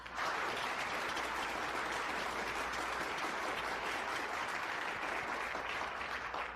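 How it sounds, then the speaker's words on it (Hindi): An audience at a televised debate show applauds to welcome a team, dense continuous clapping at an even level from start to finish, with no voices on top. "तालियों से स्वागत कीजिए टीम"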